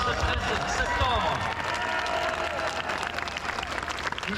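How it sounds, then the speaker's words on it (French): Crowd applause and cheering at an outdoor political rally in Paris, a dense, steady roar of clapping from a large gathering with voices mixed in throughout. "D'abord, des applaudissements pour le professeur Perron"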